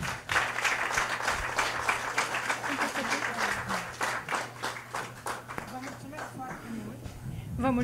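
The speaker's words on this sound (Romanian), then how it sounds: "Să o aplaudăm, doamnelor și domnilor" An audience at an arts gala in Montreal applauds a laureate, a sustained round of rapid clapping that gradually thins out, with voices emerging faintly beneath as it fades toward the end.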